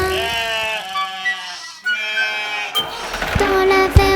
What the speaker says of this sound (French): Y a des centaines de moutons